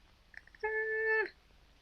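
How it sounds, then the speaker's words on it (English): A cat in a 1937 film set in a dark castle gives one clear, drawn-out meow after a few faint soft sounds, moderately near and alone. "Oh, probably the castle cat."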